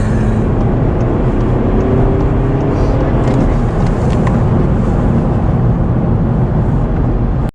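A Volkswagen Golf GTI or GTD accelerates hard from a standstill, its engine roaring loud and steady close to the microphone with wind and cabin noise throughout; the gear shift is not clearly distinguishable.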